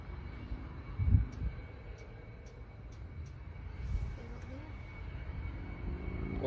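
An Osprey aircraft flies low over Prestwick Airport, its deep, steady engine rumble building and swelling, with a heavier surge near the start and another partway through.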